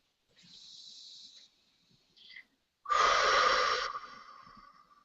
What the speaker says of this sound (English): And take a deep breath in and out.